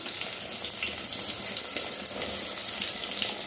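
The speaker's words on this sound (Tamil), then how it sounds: "கறிவேப்பிலை நல்லா வதக்கிப்போம்." Small Sambar onions and green chillies fry in hot oil for a fish kulambu, giving a steady, close sizzle with dense crackling spread evenly throughout and no talk.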